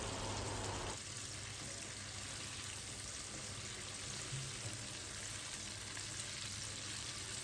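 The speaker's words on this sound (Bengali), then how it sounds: "এখন সেই গরম তেলে চিকেনের টুকরাগুলোকে ছেড়ে দিচ্ছি" Chicken pieces for chicken pops deep-fry in hot oil, a dense, continuous hissing sizzle that holds steady and close throughout, with no voices.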